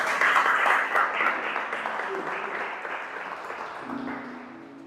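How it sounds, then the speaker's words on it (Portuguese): A church congregation applauds during a Portuguese-language celebration service, a loud, dense wash of clapping that slowly fades, with voices and a sustained tone entering near the end. "Pode aplaudir o Senhor."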